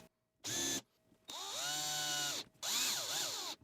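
A power drill drives screws into wood while a circle cutting jig is assembled with glue, in three bursts: a short whir, a longer sustained spin that winds down, then a final burst with wavering pitch, all close and loud.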